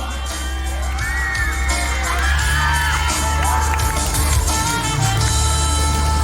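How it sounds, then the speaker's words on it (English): A crowd at a school sports meet cheers for the winning girls' Kho team, children shouting and whooping over a loud, steady din that swells midway, with shrill individual voices rising above. "Congratulations and cheer them out loud"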